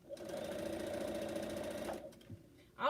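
A sewing machine runs steadily for about two seconds while stitching a quilt, a continuous close motor whir that then stops, leaving a quiet room with a faint thump at the end.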